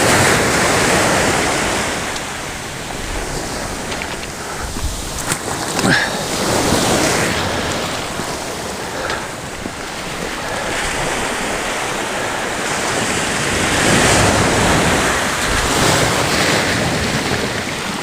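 Sea waves surge and wash against a rocky local shore, a loud continuous roar with swelling and ebbing surf and wind buffeting the microphone throughout.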